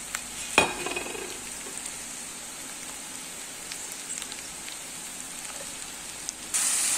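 Fresh mushrooms dropped into a pan of golden fried onion, giving a steady soft sizzle with light crackling and a brief clatter near the start, no voices.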